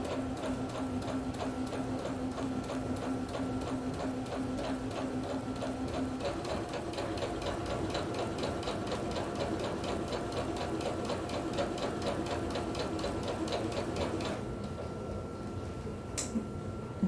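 A home sewing machine stitches a sleeve seam at a quarter-inch allowance, running in a fast, even mechanical patter close by for most of the span before stopping near the end.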